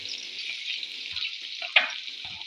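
Chopped onions frying in a pan as a pulao is being cooked, a steady close sizzle with a sharp scrape or clink near the middle and soft stirring knocks.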